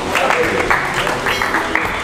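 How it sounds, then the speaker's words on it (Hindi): An audience at a poetry gathering claps, a brief burst of crowd applause with rhythmic pulses, fairly loud and close. "भरपूर तालियां।"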